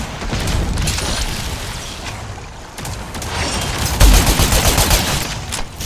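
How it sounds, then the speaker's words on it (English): A grenade goes off amid the chaos of a Crucible match, a heavy blast landing around four seconds into dense, continuous gunfire and clattering combat noise that runs throughout. "Nade deployed!"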